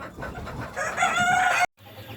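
Egyptian Fayoumi chickens on a rooftop farm, a rooster crowing loudly and close with clucking from the flock, then an abrupt cut to quieter background.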